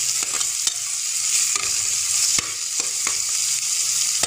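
Onions frying in a pan for a chicken dish: a constant bright sizzle close up, broken by sharp clicks of stirring at irregular intervals, no talking.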